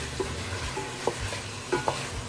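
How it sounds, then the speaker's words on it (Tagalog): Sinigang ingredients sautéing lightly in a pan, with a soft steady sizzle and a few brief stirring clinks and scrapes spread across the short stretch, no talking. "Igigisa lang natin siya dyan ng very, very light pa."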